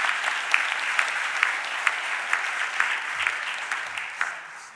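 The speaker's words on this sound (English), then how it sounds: "Give that exhibit a round of applause." Moderate applause fills a city council chamber, steady clapping from a modest crowd with a few sharper individual claps standing out, easing slightly toward the end.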